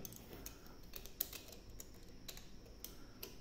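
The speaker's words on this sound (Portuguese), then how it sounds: "Escuta a clicagem, galera, ó." Small mechanical clicks come from adjusting a new 2023 regulator on an R8, a few quiet, sharp ticks spaced irregularly over a faint background with no talking.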